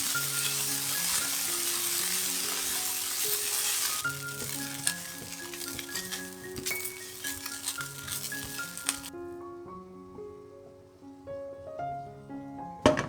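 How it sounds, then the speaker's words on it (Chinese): Vegetarian shrimp stir-fried in a wok give a loud, steady sizzle with clinking stirring strokes, while music plays underneath and the sizzle fades near the end. "将素虾倒入锅里炒一炒，炒好后放到碗里备用。"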